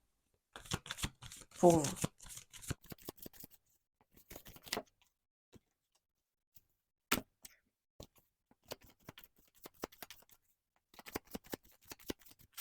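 Tarot cards being shuffled during a card reading: quick papery riffling bursts, strongest early on, then scattered soft flicks and taps, heard close and mixed with a person talking.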